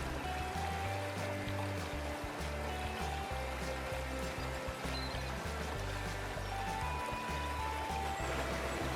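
A river flows over large boulders on the slopes of Merapi, a steady, dense rush of water close by with no break, with no voices over it.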